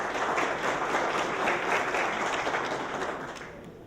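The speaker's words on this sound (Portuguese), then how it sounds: "o palestrante Guilherme Gonçalves Pereira, que recebe o carinho e os aplausos de todos" Steady applause from a large conference audience, dense and even, slowly fading toward the end.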